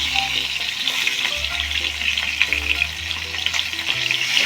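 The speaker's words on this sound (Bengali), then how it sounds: "এবার উল্টে আমি দু পাশ মাছটা ভেজে নিচ্ছি" Parshe fish frying in hot oil over a medium gas flame sizzles and crackles steadily up close, a continuous frying hiss with a few louder spits along the way.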